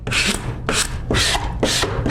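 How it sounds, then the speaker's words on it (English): A squeegee drawn over calendered sign vinyl in a wet application, working from the center outward, gives four rhythmic rubbing swipes, close and fairly loud, with no talking. "Take my squeegee, same thing that I did with the mask. From the center out."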